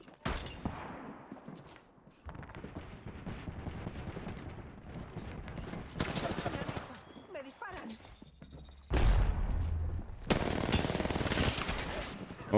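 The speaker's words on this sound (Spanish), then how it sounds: "Están disparando." Bursts of rapid automatic gunfire and scattered shots during an Apex Legends ranked arena match, loud and dense in stretches, with a player talking over the shooting.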